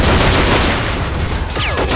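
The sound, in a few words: grenade explosion in Men of War video game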